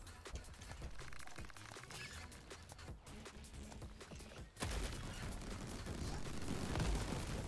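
Rapid video-game gunfire from dual pistols crackles in dense bursts, then a louder, sustained explosive roar swells near the end, with no talk over it.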